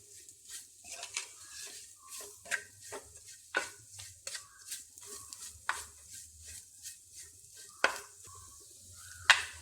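Chilli powder mixture for fish curry fries in a pan while a spoon stirs it, giving soft scraping strokes and small clinks against the pan over a faint sizzle, quiet and close with sharper knocks now and then.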